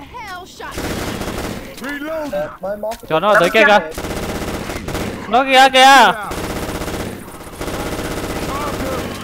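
Automatic gunfire from the zombie co-op shooter Left 4 Dead 2 comes in loud, rapid bursts that stop and start, mixed with game effects while players talk excitedly over it.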